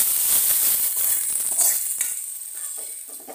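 Taro-stalk vegetable curry sizzles steadily in a hot pan as it is stirred, with a bright continuous frying hiss and occasional scraping bursts, gradually quieting toward the end.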